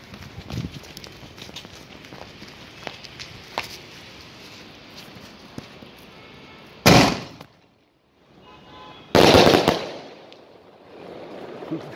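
Mercury Fireworks Shadow Hunter multi-shot sky shots burst outdoors in two loud, sharp explosions several seconds apart, each trailing into crackle, over a steady background hiss and faint scattered pops.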